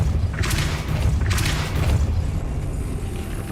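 Casting Depulso in Hogwarts Legacy on PS5 sets off two heavy, booming magical blasts close together near the start, each with a bright whooshing burst, before the noise settles into a low rumble.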